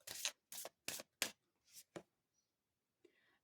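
Tarot cards are shuffled and drawn in a series of short riffling bursts, about six quick rustles at an even pace, followed by a pause and a faint final card sound, heard close and quiet.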